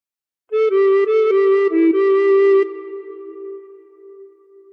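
A recorder plays a short phrase of Battle Hymn of the Republic, with several quick tongued notes followed by a longer held note that fades, played solo and fairly close.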